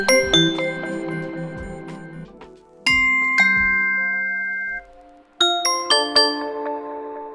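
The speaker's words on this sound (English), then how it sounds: "You can also choose your doorbell sound." A Blink doorbell chime sounds from an Echo Show 8 as a series of clear, bright electronic ding-dong tones, heard alone in bursts with ringing decays and short gaps between them.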